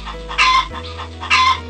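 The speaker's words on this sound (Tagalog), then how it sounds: "nagsimulang tumilaok ang tandang" A rooster crows twice in quick succession, loud and close, with a low steady hum beneath.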